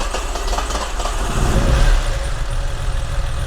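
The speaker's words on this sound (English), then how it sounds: "We're going to do a cold start on it." A 1971 BMW 2500 inline-six idling just after a cold start on the choke, a close, steady rumbling engine note that swells slightly midway before settling.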